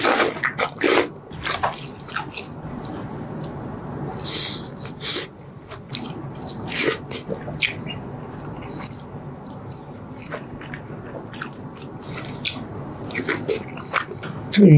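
Close, wet chewing and biting on meat-filled wontons, with repeated soft squishy bites and smacking at an irregular rhythm, fairly loud and with no talking.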